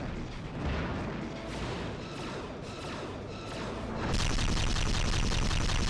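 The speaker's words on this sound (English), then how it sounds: "They're just firing constant torpedoes here." Starship torpedoes fire nonstop in a Star Trek space combat game, the JJ Enterprise refit against a Miranda-class ship, making a dense, loud barrage of booming blasts that swells even heavier near the end.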